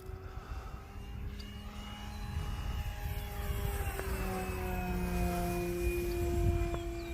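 A Tower Hobbies Sbach RC model plane flies overhead, its engine a steady drone with pitch sweeping up and down as it passes and banks, growing gradually louder over several seconds against light outdoor wind.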